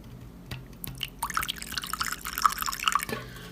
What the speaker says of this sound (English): we can go ahead and add the rest of the water